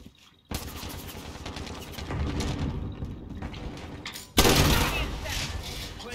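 Rapid automatic gunfire rattles continuously in a Call of Duty: Modern Warfare Infected match on the Scrapyard map, swelling louder near the end, with players talking over it.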